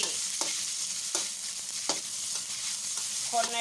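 Onion flower stalks stir-fry with pork belly in a hot pan, giving a soft steady sizzle with several sharp spatula scrapes spaced about a second apart and a brief clink near the end.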